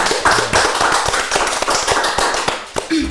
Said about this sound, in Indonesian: tepuk tangan dulu untuk KPKPST